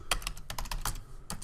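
Quick bursts of keystrokes on a computer keyboard, close and soft, with a short pause before a final pair of taps.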